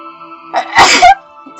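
A single loud, close human sneeze, a short intake followed by a sharp explosive burst, standing out against quiet background hum.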